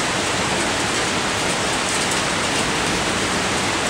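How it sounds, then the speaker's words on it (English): Steady, dense rain pouring down on a street in Toronto, a continuous broadband hiss of drops hitting surfaces, loud and close with no pauses and no voices. "But yeah, it's raining."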